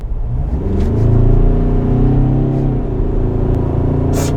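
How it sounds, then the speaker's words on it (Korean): Ford Ranger Raptor pickup with a 2.0-litre bi-turbo diesel engine, revving at low speed with a deep, loud, steady rumble that rises and falls slightly, close and alone without talk. "엔진 튜닝음을 상당히 잘 해놓은 것 같아요"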